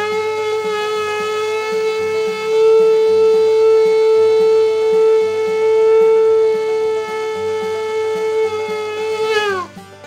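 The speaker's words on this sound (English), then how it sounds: "the last one is a very long sound called tekiya gedola" A single shofar blast for tekiya gedola holds one loud, steady horn tone for about nine seconds before bending downward and cutting off, with faint background music underneath.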